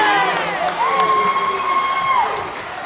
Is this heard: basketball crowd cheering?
yes